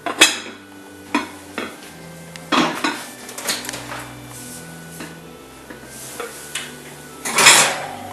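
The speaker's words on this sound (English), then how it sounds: "You put a lid on it." A lid is set on a pot holding vegan bread dressing, heard as a series of scattered metallic clanks and clatters of cookware and utensils, close and moderately loud, with quiet gaps between and no talking.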